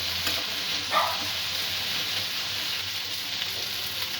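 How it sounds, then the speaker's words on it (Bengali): Potatoes and sweet corn fry in a pan for a dry curry, giving a steady, loud sizzle that carries on without a break, with one brief stirring scrape early on. "একটু উল্টে পাল্টে নিয়ে সমস্ত উপকরণগুলো ভাজা করতে দেব।"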